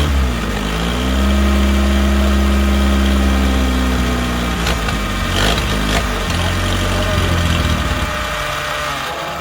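A car engine runs steadily after the ignition is started, a loud, close, continuous idle with a droning low hum and shifting pitch, plus a few brief clunks partway through.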